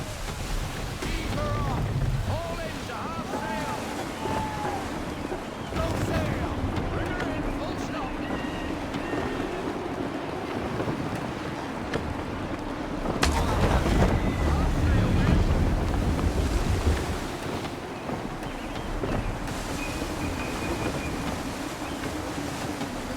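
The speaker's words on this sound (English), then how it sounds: "Wind looks to be shifting. Stay alert, Connor. Gusty winds can be difficult to manage." Gusty wind roars steadily at sea in the video game Assassin's Creed III, a loud, continuous rushing that swells in a stronger gust midway.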